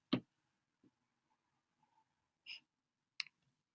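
A computer mouse clicks in a quiet room: four short, separate taps spaced unevenly over a few seconds, the first loudest and the rest soft, close to the microphone.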